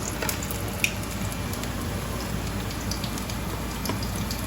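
Potato chips frying in hot oil on an outdoor cooking setup, a steady broadband sizzle and crackle with scattered pops, moderately close and continuous, no talking.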